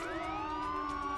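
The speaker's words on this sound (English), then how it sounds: "Siren on." Police car siren in the video game Contraband Police, a loud continuous wail with rising and sweeping tones, steady throughout with no talking.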